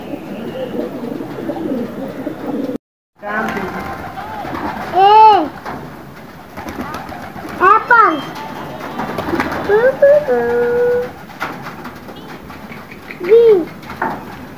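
Pigeons belonging to a pigeon keeper in Khanpur, Rahim Yar Khan, with a few newly released birds: several separate rising-falling coos and chirps stand out against steady outdoor noise, with voices talking throughout.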